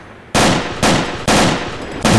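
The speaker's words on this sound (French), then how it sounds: "Les coups de feu sont très proches, mais je vois pas du tout d'où ça vient" ArmA II battle gunfire: loud, close bursts of automatic weapon fire in three long strings with brief gaps between them, sounding alone without any speech.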